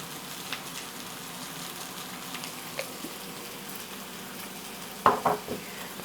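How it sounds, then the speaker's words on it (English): Fried rice with dried ginger, ground coriander, garlic powder and sweet soy sauce sautéing in a pan, a soft continuous sizzle with a few sharp clacks of a utensil against the pan near the end. "We're just gonna finish sauteing this and then we'll plate up"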